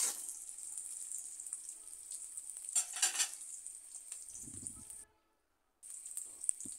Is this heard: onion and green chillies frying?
yes